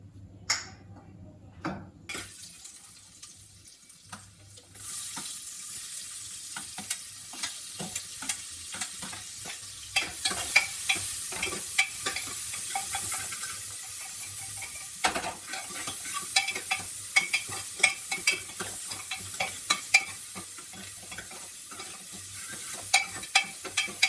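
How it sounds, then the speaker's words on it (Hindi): Ghee heating in a pan, sizzling and crackling steadily with frequent stirring scrapes, picking up after a quieter start and staying close and fairly loud throughout. "ये डाला मैंने 2 चम्मच घी, थोड़ा सा गर्म होने देते हैं।"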